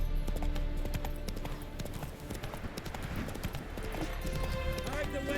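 The horse Roach gallops in The Witcher 3 with a rapid, continuous clip-clop of hooves over a game soundscape, and a voice speaks over it.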